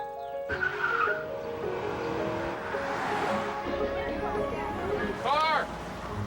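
A car skids with squealing tires in a TV commercial, the squeal rising and bending near the end over a busy mix of music and a voice.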